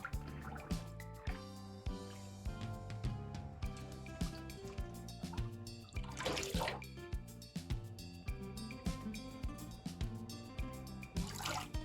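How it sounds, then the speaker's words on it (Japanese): Wool yarn dyed with chestnut burrs is pressed in a basin of water, giving repeated soft squelches and drips in a slow, regular rhythm over a backdrop of light background music. "水洗いはできるだけ摩擦が少ないように絞るのではなく、ぎゅーっと押し出す感じで洗っていきます"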